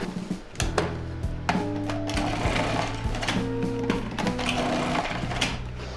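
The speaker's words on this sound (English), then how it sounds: "I want perfect 1/4-inch slices for this, so I found the best way was to use my food processor" A food processor slices apples into quarter-inch pieces, its motor whirring steadily with rhythmic knocking and clattering as the fruit feeds through, loud and close.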